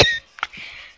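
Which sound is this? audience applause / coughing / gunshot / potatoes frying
coughing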